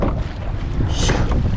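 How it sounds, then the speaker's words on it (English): Wind buffets the microphone out on open water aboard a rowing boat, a loud, rough roar with gusty swells and a brief hiss in the middle, with no speech. "Yep, fight the wind here, fight the wind."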